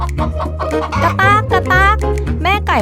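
A hen clucks repeatedly in short, loud bursts while fleeing a chasing dog, heard over steady background music.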